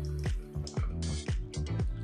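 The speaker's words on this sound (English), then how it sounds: "You just want to put a little bit of water on it to get yourself going." Water dripping onto a razor before shaving, a string of distinct, close drips landing in an uneven rhythm, about five over two seconds, with nothing else audible.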